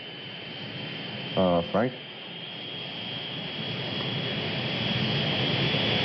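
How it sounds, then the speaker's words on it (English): A Phantom jet aircraft approaching as a steady, broad roar that slowly swells in loudness, with a brief spoken call heard over it early on. "there's a phantom jet bearing down on us"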